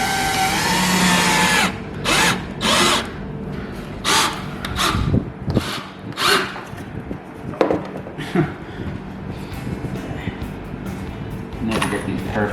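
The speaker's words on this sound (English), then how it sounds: "Let me back off the direction of the drill." Power drill driving special screws into clamped wood for a home studio desk build, in short repeated whirring bursts close by, with a person talking between them.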